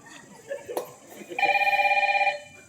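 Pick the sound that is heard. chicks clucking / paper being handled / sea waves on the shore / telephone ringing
telephone ringing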